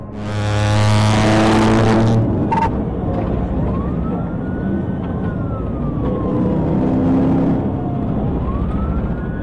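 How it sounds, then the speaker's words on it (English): A Chevrolet Camaro races loudly through highway traffic during a police chase, with a strong engine roar and a police siren wailing and sweeping in pitch throughout. "The Camaro makes a high-speed maneuver, darting into traffic"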